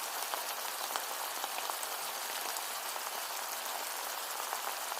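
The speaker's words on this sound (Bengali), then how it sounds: "আমার পেঁয়াজ ভাজা প্রায় শেষ" Sliced onions and green chillies fry in hot oil, giving off a continuous bright crackling sizzle that is steady and close, with no voices.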